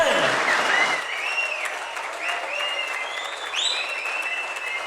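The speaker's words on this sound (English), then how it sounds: "Big round of applause." Audience applause at the SJVN Drishti Conclave, a loud burst of clapping that eases into steady applause, with whistling and cheering voices rising over it.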